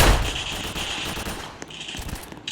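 Rapid submachine gun bursts in a Roblox zombie survival game ring out in sustained automatic fire, with dense repeated shots and a brief pause before the firing resumes.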